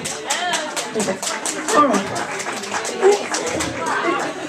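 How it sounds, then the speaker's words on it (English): Audience applause in a comedy show crowd, a dense, steady patter of many hands clapping with a few scattered cheers, while someone briefly speaks over it. "that's a lot of clapping"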